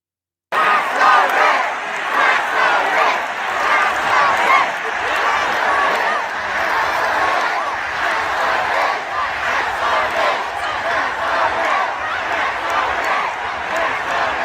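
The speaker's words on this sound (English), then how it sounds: "the crowd is chanting tax the rich" A rally crowd chants "tax the rich" in rhythmic unison, a dense roar of many voices that starts abruptly and carries on loudly and steadily throughout.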